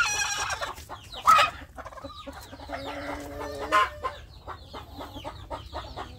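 Several free-range village chickens cluck and squawk outdoors in hot morning sun, with a couple of louder calls rising above the steady clucking of the flock.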